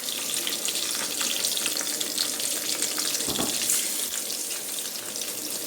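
Scored fish frying in a pan over high flame, a steady dense sizzle with crackling spatter running throughout, near and fairly loud, with no talk.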